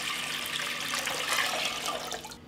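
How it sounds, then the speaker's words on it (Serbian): A litre of water pours into a cooking pot, a steady broadband splashing rush that runs continuously and close, then cuts off at the end, with no talk. "U jednu šerpu sipat ću litar vode."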